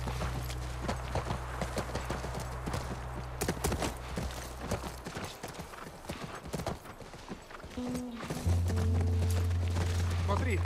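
Horse hooves clip-clop in a steady walking rhythm in The Last of Us Part 1, close and clear, with a character talking over them and game music rising near the end.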